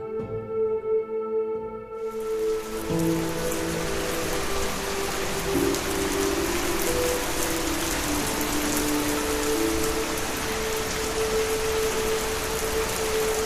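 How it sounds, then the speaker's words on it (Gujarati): Heavy rain bursts into a forest in an animated story, starting abruptly after a short musical lead-in and continuing as a loud, dense, steady hiss of downpour. "જંગલમાં અચાનક ભારે વરસાદ શરૂ થયો"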